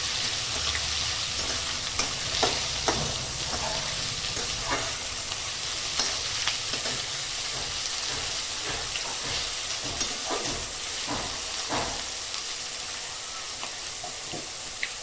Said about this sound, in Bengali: পেঁয়াজটাকে এবার লাল করে ভেজে নেব।